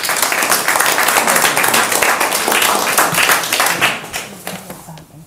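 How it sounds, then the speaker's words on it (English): An audience at a Board of Appeals public hearing claps loudly and densely from nearby, the applause holding steady for several seconds before thinning out and fading at the end. "We'll limit the clapping, please, if that's okay."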